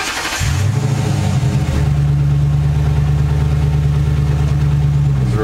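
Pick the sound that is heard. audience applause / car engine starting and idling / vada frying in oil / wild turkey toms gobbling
car engine starting and idling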